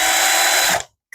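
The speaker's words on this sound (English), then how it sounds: "Hopefully these screws are all big enough for my drill here" A power drill unscrewing screws from a Sony Vaio laptop during a teardown, one steady high whine for under a second that stops abruptly, close up.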